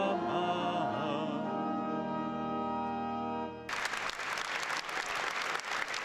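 More than 5,000 faithful in St. Peter's Basilica burst into broad, dense applause at a Wednesday general audience, cutting in sharply after a sustained sung tone.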